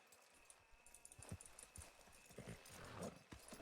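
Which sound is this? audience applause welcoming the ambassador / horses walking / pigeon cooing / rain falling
horses walking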